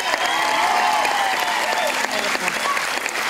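Dense, steady applause from a talent-show audience for a singer, loud and continuous throughout with faint crowd noise mixed in.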